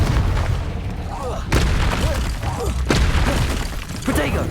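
Confringo spell blasts in the game Hogwarts Legacy, loud booming bursts at irregular intervals amid combat effects, with a voice talking between them.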